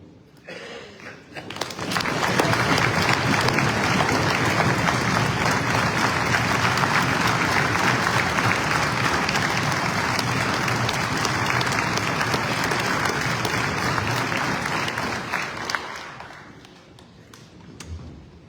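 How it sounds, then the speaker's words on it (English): Loud, sustained clapping from a large crowd honoring veterans at a Washington State Patriotic Day event swells quickly, holds steady for over ten seconds, then fades away. "Let's show all of these veterans our deepest appreciation with another huge round of applause."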